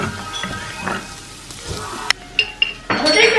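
Cloves, cinnamon, cumin, bay leaf and crushed garlic sizzle in hot oil in a kadai, a close frying hiss broken by a few sharp clinks of a metal spoon against the pan, then a louder burst of sizzling.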